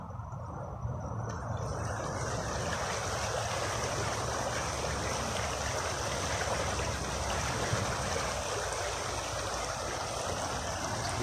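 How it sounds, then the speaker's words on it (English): Alfin Brook near Ide, a small stream flowing under an old bridge, a steady broadband rush of water heard continuously and fairly close, with a faint high insect-like hiss above it. "This is Alfin Brook"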